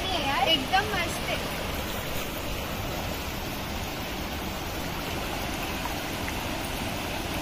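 Stream water rushing steadily at a waterfall in Munnar, Kerala, a continuous broadband wash that stays even and fairly close throughout, with faint voices of people nearby at the start.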